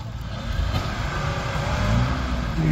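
A Jeep Grand Cherokee revs hard while churning off-road through a swamp, with a loud, close, rough engine roar that climbs in pitch.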